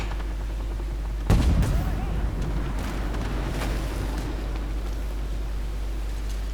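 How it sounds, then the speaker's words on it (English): A single loud tank autocannon shot bursts out in Armoured Warfare, followed by a steady rumbling engine and battlefield din with faint echoing cracks. "Luckily we bounced his return auto gunshot."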